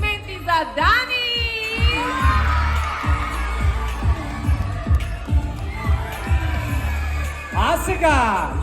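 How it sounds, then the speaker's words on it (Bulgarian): Lively crowd cheering and shouting at a live event, whoops rising over continuous applause, with a pounding low rhythmic beat running underneath from start to finish. "Искам сега да чуя вашите бурни аплодисменти за Дани!"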